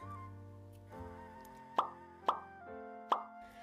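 Three spoonfuls of kewra water drop into chicken biryani, making three distinct, sharp liquid plops spaced irregularly over a few seconds, heard close over a soft, steady tonal background.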